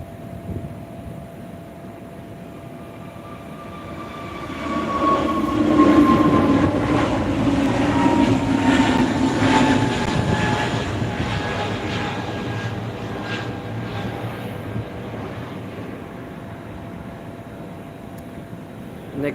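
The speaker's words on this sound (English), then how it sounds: "Air Asia is coming." An Air Asia airliner moves at Phuket International Airport in the evening, its engine roar swelling from a steady background to a loud broad rush around the middle and then slowly fading back, heard at a moderate distance.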